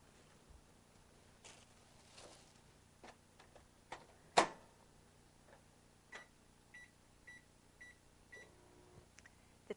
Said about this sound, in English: The time is up on the microwave.